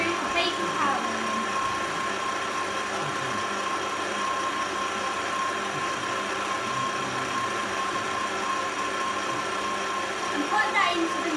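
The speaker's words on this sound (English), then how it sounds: "After that is mixed in, you'll want to stop the mixer and take the bowl" An electric mixer beats Victoria sponge cake batter in a bowl, giving a steady, close, continuous whirring drone with little change throughout.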